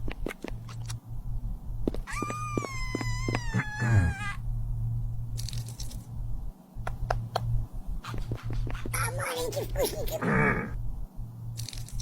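A cat meows twice, a long wavering cry followed later by a shorter, strained one, over a steady low hum with scattered clicks and light handling noises.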